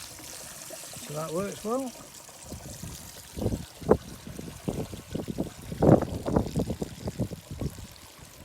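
Water drains from the second valve of a DIY three-barrel koi pond filter and runs to waste, a splashing pour heard beneath people talking.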